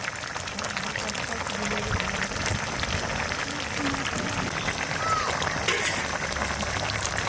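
Potatoes and eggplant simmering in water in a pot for a Bengali fish curry, a soft continuous bubbling and hissing with faint kitchen clinks and a little talk in the background.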